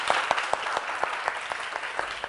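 An audience breaks into applause, a dense burst of clapping with distinct claps punctuating it, sustained and near throughout.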